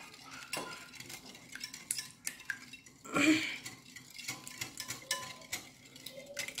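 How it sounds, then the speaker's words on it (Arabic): Eggs, sugar and oil are whisked in a bowl, producing a quick run of light tapping and clinking strokes against the bowl, with one louder scraping swirl midway. "غادي نضربو هاد البيض مع السكر والزيت مزيان حتى يندمجوا مزيان"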